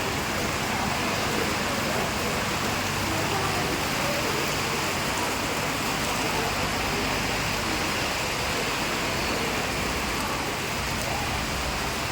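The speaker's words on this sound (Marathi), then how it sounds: "भरपूर मोठा पाऊस आलेला आहे मित्रांनो बघा" Heavy monsoon rain pours down steadily at a bus station in Pandharpur, a dense, continuous hiss of water striking surfaces that holds constant and loud throughout.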